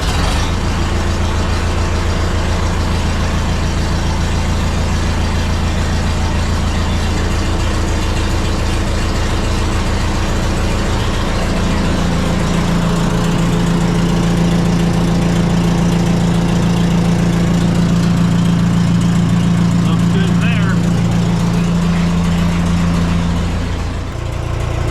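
An old excavator's unmuffled engine runs loud and close, a steady low rumble that thickens and deepens partway through as it settles into a rough idle, with no talking.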